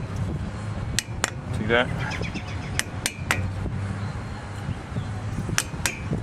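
Sharp hammer taps drive a brake part into place on a front disc brake, heard as a series of distinct metallic strikes at irregular intervals, with someone talking briefly between them.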